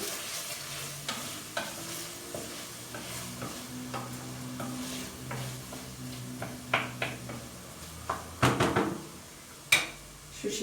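Garlic sizzles softly in a pan while a utensil stirs and scrapes, with a few louder clanks of cookware near the end.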